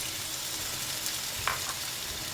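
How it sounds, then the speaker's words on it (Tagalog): Steady sizzling of plantains frying in hot oil, a continuous crackling hiss with a few brief pops, close up and with no talking. "Atin ipiprito din sila para parehas lang prito."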